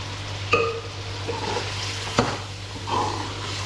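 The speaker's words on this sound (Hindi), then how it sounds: "चिकन फ्राई हो चुका है, इसके अंदर मैं टमाटो प्यूरी डाल देती हूँ।" Tomato puree from two tomatoes poured into a pan of fried chicken in oil with cumin, giving a soft sizzle with a few sharp clinks of a spoon against the pan, close and fairly quiet.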